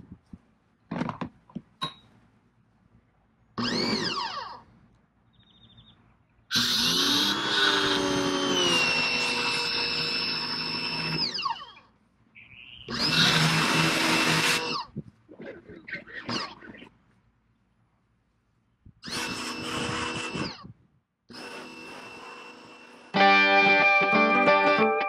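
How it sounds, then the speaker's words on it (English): A rented power washer runs in long loud bursts while a trailer is washed, the steady motor whine and water spray cutting in and out with short pauses between passes, no talking. "I had to go and rent a power washer."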